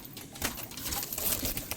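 Pigeons up close, with repeated soft wing flutters and scuffling bursts in quick, irregular succession.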